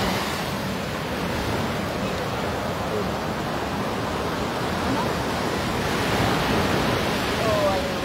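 Ocean waves wash onto a beach at high tide at Curry Duck Beach in Trinidad, a continuous broad roar of surf that stays steady throughout with no distinct breaks.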